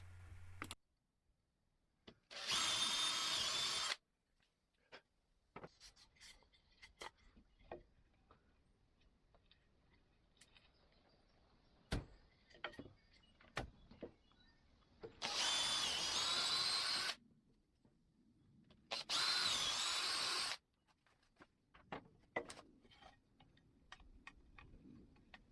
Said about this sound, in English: ready to drill the hole so that you get perfect joinery every time